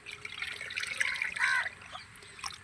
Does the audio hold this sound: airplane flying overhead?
no